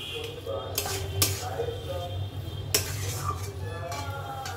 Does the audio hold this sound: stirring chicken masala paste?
yes